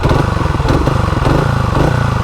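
An older Honda motorcycle engine runs close and loud, a steady pulsing throb with a slight surge as the throttle is snapped, without any talking.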